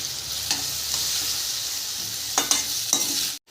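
Onion and tomato fry with chili powder in a pan, a continuous close sizzle with a few brief scraping stirs toward the end before it cuts off abruptly.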